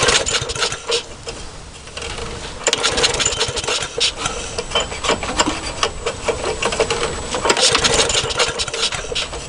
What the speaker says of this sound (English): Go ahead and try to start it here.